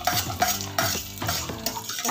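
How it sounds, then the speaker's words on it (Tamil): Urad dal frying in oil in a pan while making onion-garlic kara chutney, with a busy crackle and bubble broken by scraping and stirring knocks of a utensil against the pan, close and fairly loud. "நல்லா நுறுக்குனா இந்த மாதிரி பொங்கி வரும் எண்ணெய்"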